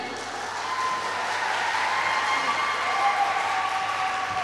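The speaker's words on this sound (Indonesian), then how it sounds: "Beri tepuk tangan sekali lagi." Steady, moderately loud applause from an audience at a university student organization inauguration and talk show, a continuous wash of clapping with no talk over it.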